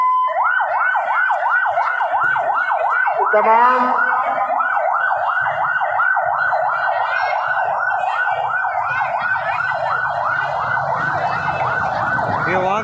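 Wailing ambulance siren on a busy road in Karachi, loud and continuous throughout with a steady rising-falling sweep, traffic rumble beneath and a brief spoken word partway through.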